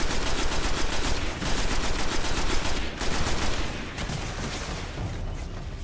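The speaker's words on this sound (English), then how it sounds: "Shotgun, sweet." Dense, continuous gunfire from the Destiny alpha, loud and sustained with rapid overlapping shots and blasts through the whole stretch, no talking over it.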